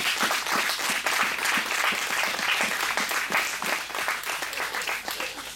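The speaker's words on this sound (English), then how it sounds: "So let us put our hands together for" Sustained audience applause at a school anniversary celebration, dense steady clapping from a crowd filling the room throughout, no talk over it.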